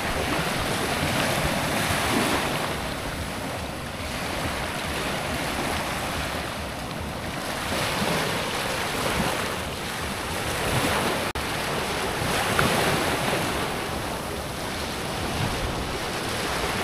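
Steady surf washes continuously onto a sea beach on a late afternoon, with broadband wave rush and wind buffeting the microphone, no speech present.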